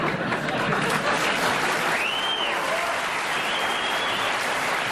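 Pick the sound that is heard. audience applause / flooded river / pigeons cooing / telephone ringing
audience applause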